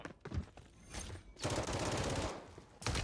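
Automatic gunfire in the shooter video game Warzone, fired from the hip in rapid sustained bursts, loud and close, with a longer burst in the middle.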